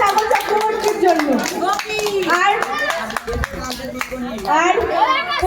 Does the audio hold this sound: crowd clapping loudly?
yes